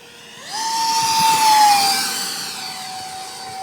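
A Hobby King T-45 EPO radio-controlled model jet on a 4-cell battery flying overhead, its electric ducted fan rising quickly into a loud, steady whine, then easing slightly as it passes and holding a lower pitch.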